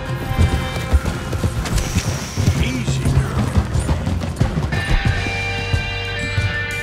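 A horse's hooves clip-clop at a steady trot in Red Dead Redemption 2, joined by rattling tack and game music, with a brief crash partway through. No one speaks.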